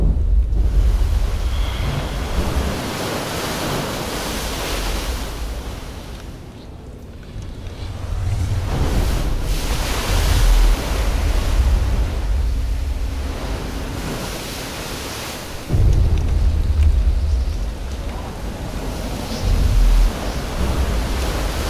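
Ocean waves layered with added sound-design buildups: a dense, roaring wash of surf with deep rumbling swells that rise and fall, briefly dipping before surging back loud and full.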